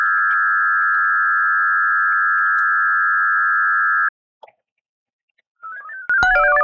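VARA AC modem tones connecting to a BBS: a loud steady single tone holds for about four seconds, breaks off, then returns as short warbling chirps and a burst of stacked digital tones.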